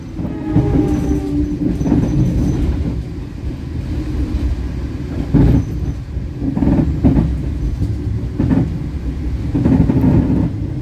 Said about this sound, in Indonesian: itu kereta api motor gratis teman, dari arah Jakarta ke entah ke Kutoarjo atau ke Semarang ya